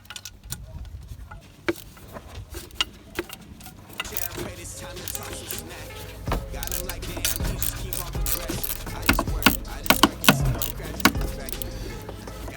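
Ratcheting clicks and metallic taps from a wrench loosening exhaust manifold bolts on a drift car build, sharp irregular ticks close by over a low background hum, growing busier toward the end.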